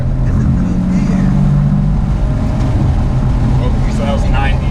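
A Maserati sports car engine roars loudly as it accelerates hard off the line, with deep sustained rumble and wind buffeting close to the microphone.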